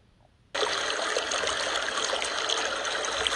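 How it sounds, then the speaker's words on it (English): After a moment of quiet, water begins flowing steadily, a bright continuous trickling and babbling like a stream running close by. "flowing stream"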